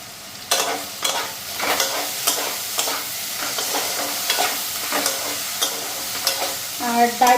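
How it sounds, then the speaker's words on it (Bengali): Potatoes frying in a pan with salt and turmeric, with repeated sharp stirring scrapes over a steady close sizzle that swells near the end. "তো তার জন্য আলুটা হালকা ফ্রাই করে নিই"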